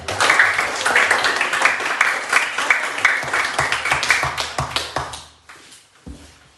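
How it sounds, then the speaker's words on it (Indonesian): Classroom of students applauding the Asia group after a lesson presentation, a dense burst of close hand claps that runs steadily for about five seconds, then thins to a few scattered claps and fades out. "Kita kasih tepuk tangan untuk kelompok Asia"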